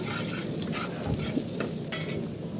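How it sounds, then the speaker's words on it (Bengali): Chopped onions sizzle in hot oil left from frying eggs, a close, steady hiss with light stirring scrapes and a sharp utensil clink near the end, and no one speaking. "ডিমটা তুলে নিয়ে ওই তেলের মধ্যে দিয়ে দেব কিছুটা পেঁয়াজ কুচি"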